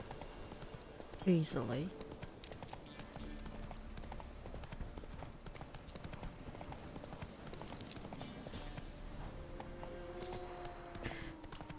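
Roach the horse's hooves clip-clop in a steady rhythmic gait in the video game Witcher 3, moderately loud beneath a man's frustrated speech and game sounds.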